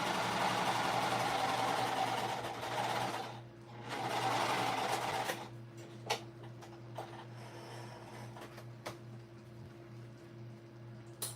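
A sewing machine stitches the three sides of a shoulder bag, running steadily for about five seconds with a short pause, then falling quiet apart from a faint motor hum and a few isolated clicks.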